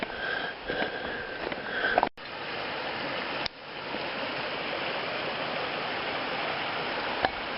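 Creek water flowing below Dorothy Lake Pass, a steady hissing rush heard continuously from nearby, with a couple of brief handling bumps breaking it.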